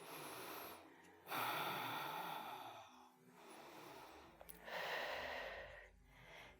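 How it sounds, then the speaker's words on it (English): Deep, slow breaths taken while holding a yoga warrior two pose: long airy inhales and exhales in several broad swells, close and fairly loud, with no talking. "You're going to take a couple deep breaths here in warrior two."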